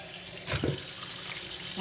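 Tap water runs steadily into a pot being washed in a kitchen sink, a continuous close splashing hiss with a brief louder gush partway through.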